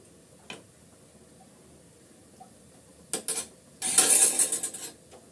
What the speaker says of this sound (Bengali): ঢাকনা সরিয়ে একটু নেড়ে চেড়ে দিচ্ছি মাছগুলো উল্টিয়ে দিচ্ছি